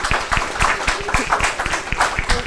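An audience at an intensive-care medical lecture applauds the nursing team with loud, close, sharp claps in a quick, fairly steady rhythm, heard alone for a couple of seconds.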